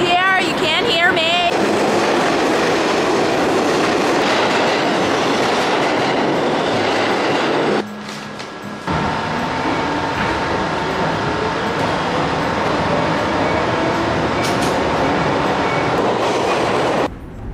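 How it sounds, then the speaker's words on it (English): A New York City subway train roars loud and steady through a station as it arrives, a brief dip near the middle before the rumble and screech resume, with a voice barely audible beneath it. "And the train's here, you can't hear me."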